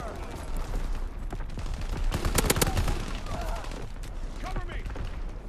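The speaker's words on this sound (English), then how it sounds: "Artillery, target position confirmed." Artillery strike and rapid gunfire in Call of Duty WW2, a dense cluster of loud blasts peaking midway amid scattered shots and game noise, with voices talking over it.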